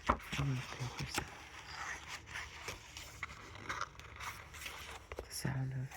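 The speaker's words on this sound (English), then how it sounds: "The sound of flipping pages." Close-miked pages of a poetry book flip during an ASMR reading. A series of crisp papery swishes and rustles comes at irregular intervals, with faint voice sounds underneath.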